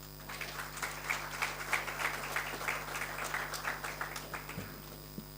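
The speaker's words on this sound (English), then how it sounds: "We can give him a huge round of applause" An audience claps at a business-sector engagement event held by the ANC in KwaZulu-Natal, a soft, steady patter of applause heard from a distance beneath a constant low electrical hum.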